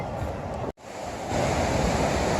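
Ocean surf washing onto Manly Beach, Australia, a steady broadband rush that cuts out for a split second and then returns slightly louder.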